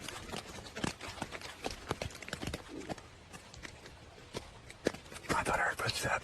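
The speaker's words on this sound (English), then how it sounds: "I thought I heard footsteps." Footsteps outside a tent at night while camping: irregular crunching steps with sharp, uneven hits across the stretch, one heavier thud near the end, fairly close and quiet, with faint whispering in between.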